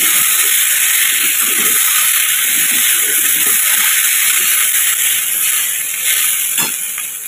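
Potatoes and vegetables fry in a pan with a loud, continuous close-up hiss and sizzle that stays steady and fades slightly at the end.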